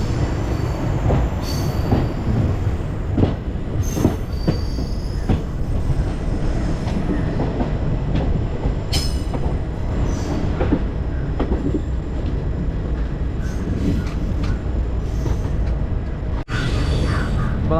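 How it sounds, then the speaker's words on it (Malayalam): The Chennai Egmore–Mangaluru Express rumbles into Shoranur Junction, with a steady rolling roar of wheels on rails, scattered clanks and brief squeals, close and continuous, with no speech. "നമ്മളിതാ ഷൊർണൂരേക്ക് എത്തിക്കൊണ്ടിരിക്കുകയാണേ"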